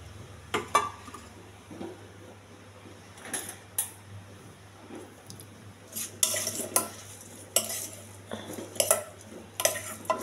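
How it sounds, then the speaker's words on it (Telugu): A spoon scrapes and clinks against a pot while cooked brown rice is mixed with garlic, salt and turmeric, giving irregular close metallic taps over a quiet background hum. "బ్రౌన్ రైస్ ఉండలు లేకుండా కలుపుకోవాలి."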